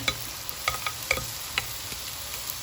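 Green pepper is stirred in a frying pan, with a string of sharp utensil taps and scrapes over a soft, continuous sizzle.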